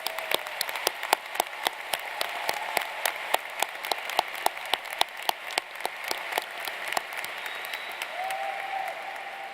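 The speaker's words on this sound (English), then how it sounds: "Let's give a round of applause to everyone here." Applause from a commencement audience at a 2018 undergraduate graduation ceremony, a steady wash of many hands clapping with sharp individual claps standing out, fairly distant and sustained throughout.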